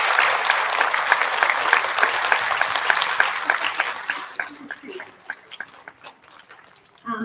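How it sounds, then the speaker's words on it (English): An audience applauds for a school counselor at an elementary school student recognition ceremony, with dense steady clapping that gradually thins and fades toward the end. "So can we give her a nice big round of applause?"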